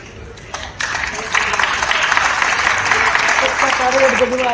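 Applause from a poetry recital audience at the Kannauj festival stage swells after a brief pause into sustained, dense clapping that fills the hall and holds at a steady, loud level to the end.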